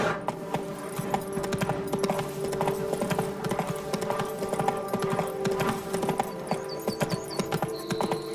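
Horse hooves clip-clop steadily at a riding pace in The Witcher 3, a continuous near rhythm of hoofbeats over a low ambient bed, with no talk.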